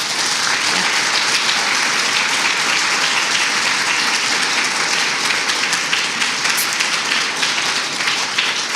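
Sustained audience applause after a lecture, a dense, even wash of many hands clapping from a full hall, loud and steady throughout with no talk over it.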